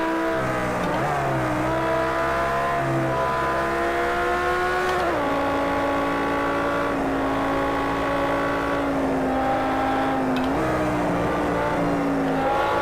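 A Lamborghini Huracán or Audi R8 sports car on a race track, its engine roaring loudly and continuously as it climbs through gears, pitch rising, dipping at each shift, then rising again, heard from close by.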